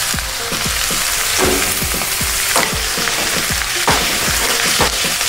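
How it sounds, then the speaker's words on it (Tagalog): Mushrooms frying in a pan for beef and mushroom salpicao, a loud steady sizzle with repeated scraping stirs throughout, no talking. "Pwede na natin lagay yung ating"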